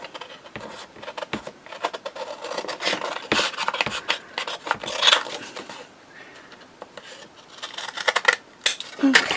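Scissors snipping and rasping through paper pieces being trimmed for a journal, a run of close, uneven cuts and rubs with short pauses between strokes.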